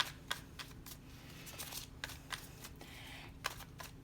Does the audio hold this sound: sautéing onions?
no